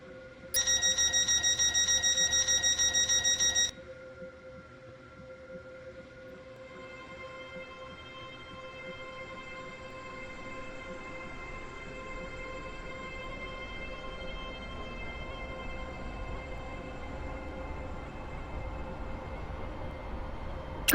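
A Class 802 train in the Stepford County Railway video game, a bright chime tone at the start and then a steady electric motor hum that slowly builds under rolling rail noise.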